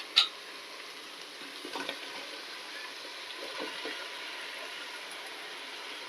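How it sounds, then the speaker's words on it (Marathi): Marinated vegetables with spices for veg biryani sizzle in a pan, a faint, steady frying hiss with a sharp clink at the start and a few soft stirring scrapes, no voices. "आता भाज्या व्यवस्थित अशा मिक्स करायच्या तीन ते चार मिनटं असं परतून घेते"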